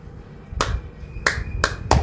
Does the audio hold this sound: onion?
no